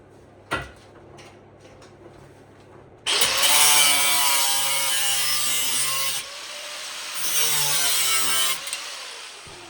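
A power tool cuts through a Vauxhall Victor door panel, starting with a sharp knock, then a loud, sustained rasping cut that briefly drops off before resuming, close and alone.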